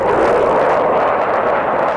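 US military jets roaring overhead in Baghdad during fighting around Haifa Street, a loud, sustained, broad engine rumble and roar filling the whole stretch with no talk.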